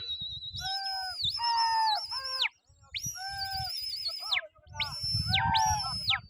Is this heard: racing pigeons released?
yes